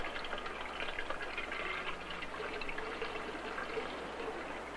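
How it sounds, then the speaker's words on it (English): Steady rushing of water pouring into a container, a continuous even gush with no pauses or voices. "But if we fill one side with cold water,"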